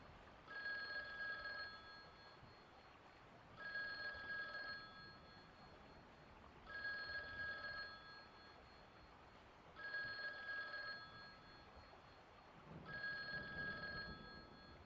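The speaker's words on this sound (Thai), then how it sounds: "โทรศัพท์ใครดังวะ" A telephone rings in five evenly spaced bursts, each lasting about a second with a bright, trilling tone, fairly faint and with no talking over it.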